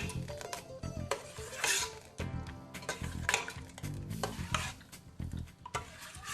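A slotted spoon stirring and scraping through ogbono soup in a metal pot, with repeated wet swishes and clinks against the sides, up close and with no talk.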